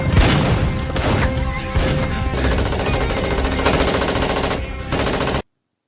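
Dense, loud gunfire from a film scene of a prison escape, rapid automatic bursts and crashing impacts continuing almost without a break for several seconds before cutting off abruptly.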